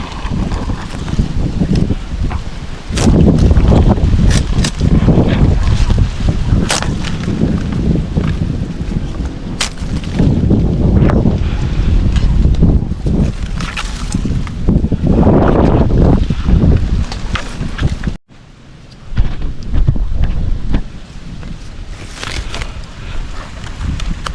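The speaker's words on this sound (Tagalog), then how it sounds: "Biglang humangan. Wow. Humangin bigla." Sudden wind gusts at sea from a small boat, buffeting hard against the microphone in loud, uneven surges with a brief sharp dropout near the end and no talking.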